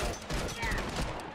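Rapid semi-automatic gunfire in The Last of Us multiplayer, a dense run of overlapping shots and bursts filling the whole stretch at steady loudness, with a voice faintly mixed underneath.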